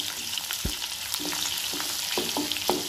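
Chopped ginger and garlic fry in hot oil for a fish pickle, a close, steady crackle broken by several sharp scrapes and taps as they are stirred.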